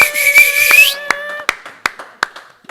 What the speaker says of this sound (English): We need another round of applause.